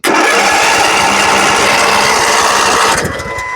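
Ariens zero-turn lawn mower engine cranking and trying to start, a loud continuous rapid churning close by for about three seconds before it cuts off, no talk.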